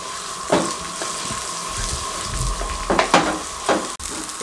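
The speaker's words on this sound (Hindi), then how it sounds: "इन सब चीज़ों को अच्छे तरीके से हम हल्का सा रोस्ट कर लेंगे।" Soft, steady sizzling as spices and green chillies roast in a pan for mutton curry, with occasional scraping and stirring clatters, close by and fairly quiet.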